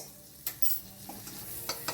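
Butter sizzles softly in a wok, interrupted by a few sharp scraping strokes of a spoon against the metal as it is stirred; the sound is close and fairly quiet, with no speech.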